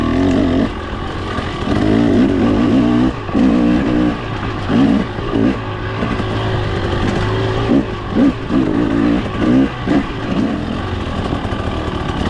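A 2023 300 dirt bike engine drones and revs steadily while riding a rutted trail, loud and close, its pitch rising and dipping in rhythmic surges over the bumps.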